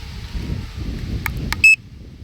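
Warning beep from a drone's remote controller signalling low battery, heard outdoors in strong wind: a brief bright tonal bleep with a few short clicks just before it, over steady low wind rumble.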